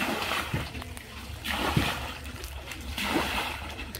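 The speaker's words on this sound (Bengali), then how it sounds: "অঙ্কনে কাকা বিছড়ে খেতে জল দিতেছে পুকুর থেকে" Water splashing and sloshing in repeated surges as a farm field is watered by hand from a pond, a steady wet wash rising and falling every second or two with faint voices in the background.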